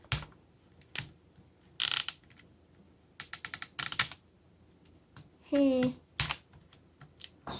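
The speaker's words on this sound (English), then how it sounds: "This zipper's being a pain in the butt." Fiddling with a stubborn zipper on toy doll packaging, a series of short scratchy zips, clicks and rustles in irregular bursts, close and fairly loud in a quiet room, with one brief squeaky sound among them.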